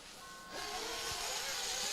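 RC nitro buggies launching at the start of a quarter-final race at the RCRA Nationals, a sudden swell of high, buzzing small engines revving together, loud and continuous, with a faint whine beforehand.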